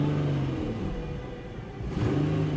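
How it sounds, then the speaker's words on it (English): A 1992 BMW 325ic engine, with a throttle that hangs and battery trouble, revs briefly under throttle: a close, steady rumbling whir that dips slightly, then rises again at the end. "Let's give her a little throttle."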